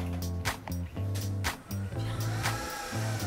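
Three small 40mm computer cooling fans on a RAM cooler whir loudly with a steady tonal hum, the pitch stepping up and down as they spin, punctuated by clicks.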